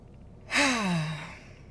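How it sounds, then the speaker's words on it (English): A single deep, audible breath let out as a long sighing exhale with a voiced, falling tone, close and clear against quiet surroundings. "let's just take a deep breath"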